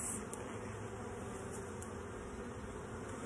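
Honeybees buzzing during an open hive inspection, a steady, even drone that is soft and continuous throughout, close by with no voices.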